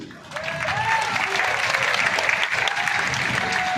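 Steady applause from a large crowd at a Hindu religious gathering (divya darbar at Bageshwar Dham), continuous and fairly loud, with faint voices or tones over the clapping.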